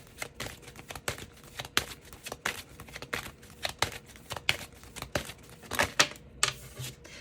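Oracle cards being shuffled and handled close by, a quick run of crisp riffling clicks and papery slaps in uneven bursts with brief pauses, no talking.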